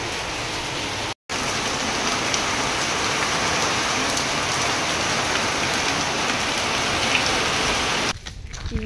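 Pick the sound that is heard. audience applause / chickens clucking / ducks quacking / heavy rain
heavy rain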